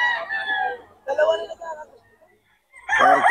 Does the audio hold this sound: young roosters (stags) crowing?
yes